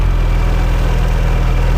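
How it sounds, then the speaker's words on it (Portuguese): Peugeot 408 engine idling irregularly with a fault, a steady close low rumble with a pulsing, uneven beat running throughout. "o motor já começa a trabalhar irregular, bem irregular"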